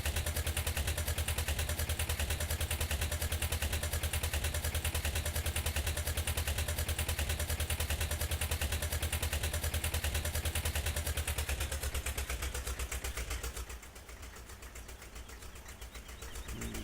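Steady, throbbing tractor engine idling in Farming Simulator 17, a dense mechanical drone with clattering pulses running unbroken, then dropping slightly in loudness near the end.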